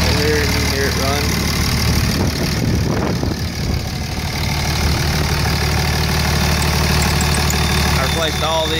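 Cummins diesel engine idling in a Ford truck fitted with a 5R100 transmission and new injectors, a steady low rumble running the whole time with a brief swell near the middle.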